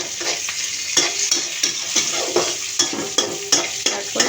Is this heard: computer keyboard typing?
no